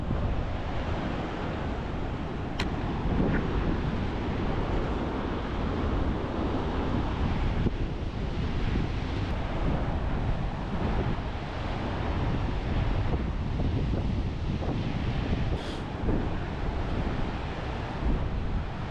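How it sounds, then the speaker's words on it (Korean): Strong ocean surf pounds the shore below sheer cliffs at Gibson Steps on the Great Ocean Road, a loud continuous roar of breaking waves mixed with wind buffeting the microphone throughout. "파도 진짜 세."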